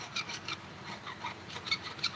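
A tungsten carbide scraper scrapes gasket material off a Kawasaki FE290D engine block in quick, faint, rasping strokes, close up and uneven in rhythm.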